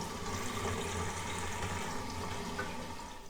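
A concealed toilet cistern refilling after a repaired small flush, a steady hushed rush of running water that fades slightly toward the end.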